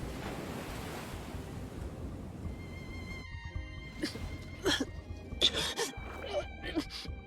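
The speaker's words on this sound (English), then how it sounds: "How did we end up in the ocean?" Ocean waves surge and wash continuously in an underwater sea scene from the video game Love and Deepspace, a soft steady roar with some wind-like noise and a few faint bright tones near the end.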